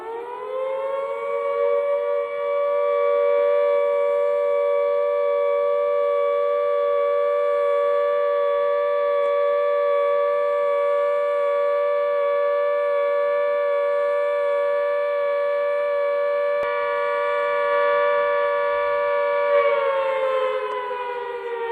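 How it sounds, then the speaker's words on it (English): A loud air-raid siren wails at a steady, unbroken pitch for about twenty seconds, then its tone starts to fall away at the end. "What does this siren call signify?"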